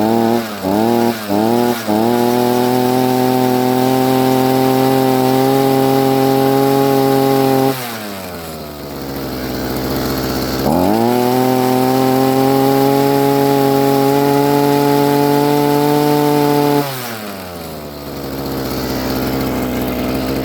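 A Harbor Freight Predator auger's small gas engine, just repaired after a fuel line fault, runs loud and close. It sputters through a few quick bursts at the start, then holds a steady drone with two dips where the revs sag and recover.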